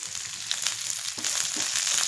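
Curry leaves crackle and sizzle in hot oil, a bright spattering hiss with small pops, close and continuous.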